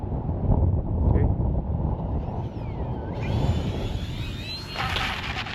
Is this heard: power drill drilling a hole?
no